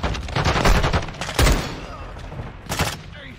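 Dense video game gunfire from Modern Warfare 2 during a prison break mission: loud broadband bursts, with sharp shots near 1.4 and 2.8 seconds over continuous battle noise.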